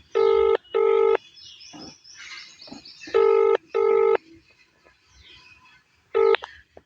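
Touch-tone dialing beeps followed by repeated ringback tones on a phone call that goes unanswered, with steady paired tones separated by quiet gaps and no voices.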